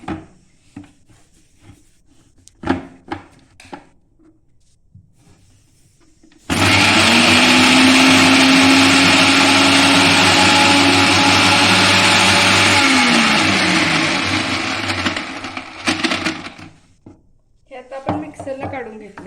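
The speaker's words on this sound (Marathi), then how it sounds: "हिरवी मिरची आणि वीस ग्रॅम लसूण असं आपण मिक्सरला काढून घ्यायचं आहे" A mixer grinder grinding garlic and green chillies roars loudly for several seconds, steady and whining, then winds down; people talk briefly before and after.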